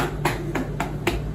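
Four sharp, evenly spaced claps ring out one after another at close range, crisp and fairly loud over a faint background hum.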